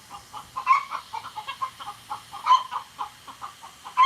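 Two hens cluck and squawk together in close, agitated bursts, a steady run of loud, overlapping calls with no talking.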